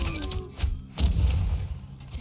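Cannon fire in the video game Cataclismo, a few dull booming thumps spaced out over a couple of seconds, fairly close, with no talking.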